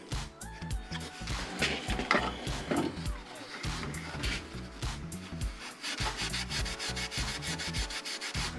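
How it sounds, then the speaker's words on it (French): Rapid rhythmic scraping and rubbing on an engine's gasket mating surface, cleaning it down, with repeated close strokes continuing steadily throughout. "On va nettoyer au maximum le plan de joint."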